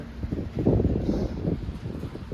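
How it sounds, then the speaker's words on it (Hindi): Cold wind blowing across an open mountain top at Hatu Peak in Himachal Pradesh, a steady low rumbling gust buffeting the microphone with rustling, fairly loud and continuous, with no voices. "बहुत ठंडी हवा चल रही है"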